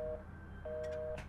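Telephone line tone in a horror video game, a faint, thin steady electronic beep that sounds briefly, pauses, then returns longer over a low hum, with a soft thud near the end.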